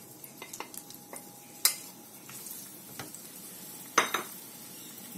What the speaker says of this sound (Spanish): esto vamos a empezar a sofreírlo